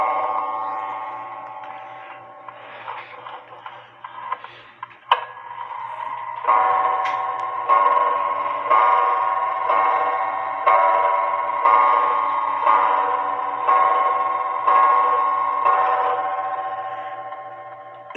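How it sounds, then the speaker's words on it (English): An antique clock from a flea market ticks steadily and evenly, amplified by a Timetrax Model 60 beat amplifier, with a clean metallic tick that grows louder and more resonant partway through, with no talking. "you can hear it ticking away, but I was just wanting to set this clock."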